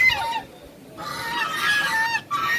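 A duck at a farmhouse calling with a few loud nasal honking quacks, near and clear, with a short pause between bursts.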